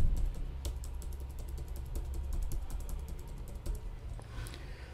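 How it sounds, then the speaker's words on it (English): Ctrl, Alt and arrow keys pressed on a computer keyboard, a quick run of light, close key clicks tapping in irregular succession throughout, fairly quiet with no talking. "you can hold Ctrl and Alt key together and then make use of left and right arrow keys on your keyboard"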